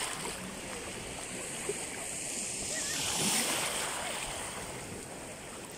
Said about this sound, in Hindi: इस वक्त मैं पानी की लहरों में मौजूद हूँ जी।